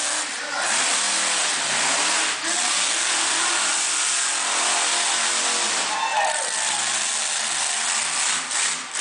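A monster truck engine at a live show, a loud, sustained roar that rises and falls through several revs, with faint crowd or announcer voices behind it.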